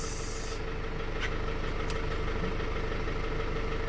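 A 2020 Mitsubishi L200 engine idles steadily with a suspected timing issue, a low continuous rumble with a faint whine, plus a couple of brief clicks or ticks over the drone and no talking.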